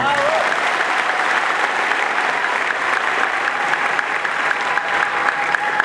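Church congregation applauding steadily in a hall, a dense, continuous wash of clapping from many hands that holds at full level throughout with no speech over it.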